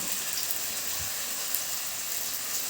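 Onions fried until reddish-brown sizzle softly in a pan as ground cumin, black pepper, coriander and dried chilli paste go in for chicken kosha, a steady faint hiss with no talk.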